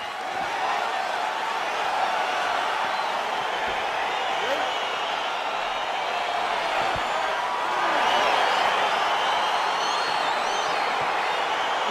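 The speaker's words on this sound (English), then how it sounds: "crowd getting excited as this fight gets underway" An arena crowd in a UFC video game on PS5 sends up a sustained, distant wall of cheering and murmuring at the start of a fight, swelling briefly louder partway through.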